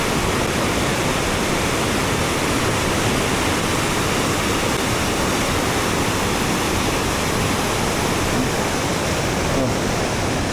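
Tat Kong waterfall in the rainy season roars as a loud, steady, unbroken wash of falling water, close and constant with no pauses throughout.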